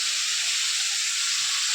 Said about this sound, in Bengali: এখন এই আলু ভাজছি